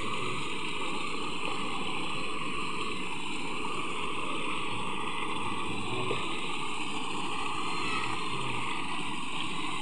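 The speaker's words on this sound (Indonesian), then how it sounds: "Kau hidupkan pompa dulu, lari." A water pump at a fish and shrimp pond runs continuously, a dense steady churning roar with rushing water, loud and unbroken throughout.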